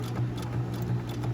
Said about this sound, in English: I'm gonna go forward, back stitch so that it's knotted in.